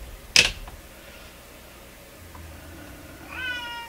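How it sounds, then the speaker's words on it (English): A single cat meows sharply and close by, one brief loud cry near the start, followed by a quiet room with a faint steady hum and a soft high whine near the end. "My cat is just throwing me all off."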